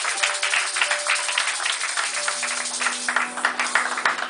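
A church congregation applauding and cheering at an anniversary service, a dense, steady wash of many hands clapping with voices mixed in, close and lively throughout.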